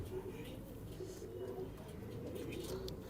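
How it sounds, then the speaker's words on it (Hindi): Soft, low cooing of Punjabi pigeons repeats through the clip beneath a steady background murmur, close by and fairly faint. "ये कबूतर मेरे यहाँ 15 साल का हो चुका है"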